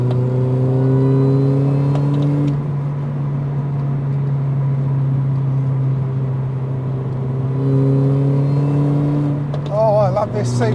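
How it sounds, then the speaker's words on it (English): A supercharged Mini's engine holds a steady drone with a rising supercharger whine, then revs and winds up toward the end, fairly close, at a Brands Hatch Mini event. "I love this supercharger when it winds up"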